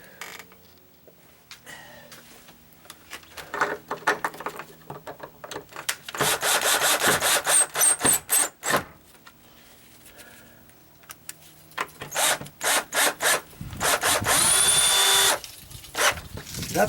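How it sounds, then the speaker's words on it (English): A power drill drives screws to fix a gate latch back onto its post, in several short whirring bursts and longer runs with pauses between. "now I'm going to go ahead and screw that back on"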